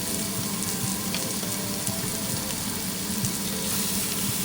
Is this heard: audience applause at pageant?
no